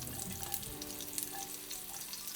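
Fresh garlic and onions hitting a hot pot for Maltese kawlata, a brief crackling sizzle with light clattering, quiet and close.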